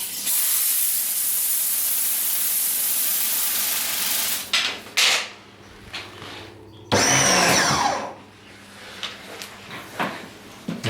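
A pressure washer fed by a hose from a garden tap sprays with a loud, steady hiss, then cuts out and restarts in short bursts with choppy stops and pauses.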